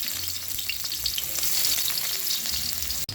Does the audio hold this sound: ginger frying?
yes